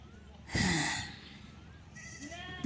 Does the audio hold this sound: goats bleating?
yes